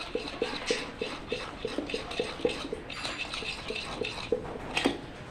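A utensil beats cake batter in a bowl for a spongy one-egg cake, giving a steady rhythm of light clinks and scrapes against the bowl's side, close and moderately quiet.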